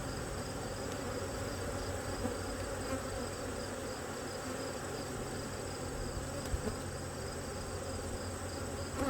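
Agitated honey bees buzz at an open hive crowded with a large population during fall swarm preparations, a dense continuous droning hum close by, steady throughout with no talk.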